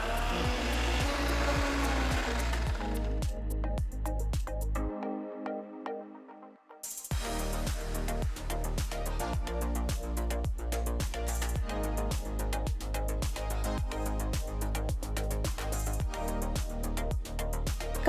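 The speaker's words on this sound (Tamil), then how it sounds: "ரெண்டு டீஸ்பூன் தண்ணி ஊற்றி மசாலாவை நல்லா பேஸ்ட்டாக அரைச்சிக்கோங்க." A mixer grinder whirs loudly and steadily, grinding masala into a paste with a little water, briefly pausing before starting again and grinding continuously with rattling clatter.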